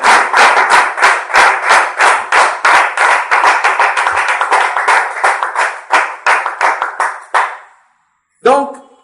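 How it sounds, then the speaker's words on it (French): A church congregation clapping in praise, loud rapid clapping that runs in a steady rhythm for several seconds, then stops abruptly before a voice speaks. "Applaudis pour l'Éternel."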